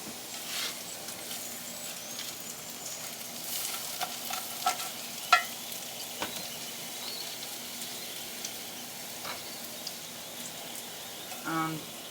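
Potatoes, onions and garlic fry quietly in a pan, giving a soft, steady sizzle with scattered clicks of stirring and a few sharper knocks.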